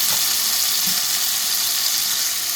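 Coarsely ground onion frying in hot oil for a fish curry, giving a steady, loud, close sizzle that holds without a break and has no talk over it.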